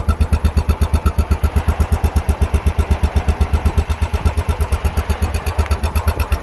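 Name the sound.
2020 Royal Enfield Bullet Trials 500 engine idling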